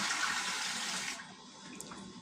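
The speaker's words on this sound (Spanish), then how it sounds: "vamos a adicionar el agua poquito a poco" Water is poured from a container into a corn bread dough mixture. The steady, splashy stream runs for about a second, then stops, leaving quiet room tone.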